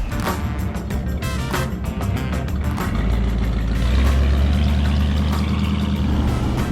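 The engine of a 1956 Cadillac Coupe de Ville rumbles steadily up close, a low, continuous drone that swells after a few seconds of clattering and handling noise at the start.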